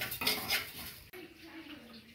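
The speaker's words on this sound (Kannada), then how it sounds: "ಇಷ್ಟು ಹುರ್ಕೋಬೇಕು, ಸ್ವಲ್ಪ ಕಲರ್ ಬರೋ ಥರ ಹುರ್ಕೊಬೇಕು." Ingredients roasting in a home kitchen pan for a weight-loss home remedy, with a metal spoon scraping and clinking against the pan, faint and close, under soft background noise.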